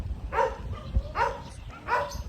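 A dog gives three sharp, evenly spaced barks against a quiet outdoor background, with a short soft knock between the first two.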